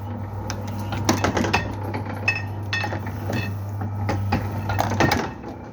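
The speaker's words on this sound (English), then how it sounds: "now when I throw this lever, it will print one print" A hundred-year-old hand-fed Arab printing press makes a single impression, giving a run of close wooden clunks and metallic clinks over a steady low mechanical hum that cuts off near the end.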